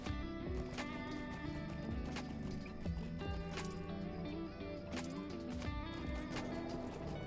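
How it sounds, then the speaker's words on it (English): A horse ridden in the video game Rust makes rhythmic clip-clop hoofbeats, a steady galloping patter mixed with game ambience and an occasional whinny-like snort. "I'm curious if I can get on my horse and do this, though."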